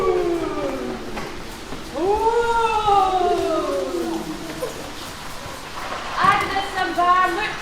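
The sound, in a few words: voice imitating howling wind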